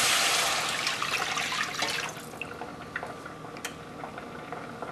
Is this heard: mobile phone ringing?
no